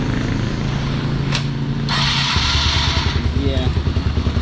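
A Honda CBR 150 motorcycle engine, just repaired at the starter, idles then picks up into a steady rhythmic putter, close and loud, with someone talking over the start.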